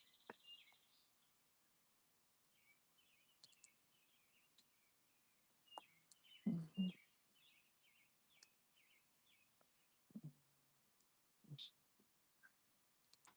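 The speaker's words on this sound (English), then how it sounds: "Can you hear the birds singing?" Faint, scattered bird chirps and short calls against a quiet background, with occasional soft knocks and clicks in between.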